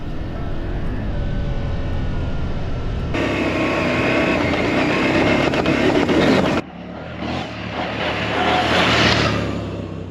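An adventure motorcycle rides through the Gorafe desert in Spain. Its engine drones loudly and steadily for several seconds, then shifts to a rougher rushing roar, heard close and without voices.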